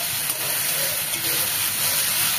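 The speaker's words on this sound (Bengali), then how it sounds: "ঠিকভাবে ভেজে নেব যাতে ভালো করে ভাজাটা হয়।" Prawns fry in a pan for a Bengali prawn and pointed gourd dish, giving a continuous close hiss and sizzle with a faint voice in the background.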